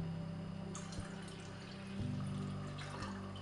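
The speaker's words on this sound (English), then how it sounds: "let's go ahead and add some water to this" Water poured into a plastic, BPA-free electric kettle for green tea, a steady close-up splashing pour with a few sharp knocks and clatters along the way.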